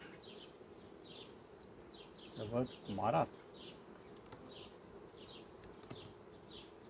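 Honey bees buzz in a low, continuous hum at an open beehive, with brief spoken words in the middle.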